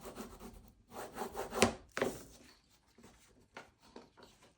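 A bone folder or fingertip rubs down a paper hinge during bookbinding, producing dry scraping strokes in short bursts with one sharp scuff, then quieter intermittent rubs, close and fairly soft.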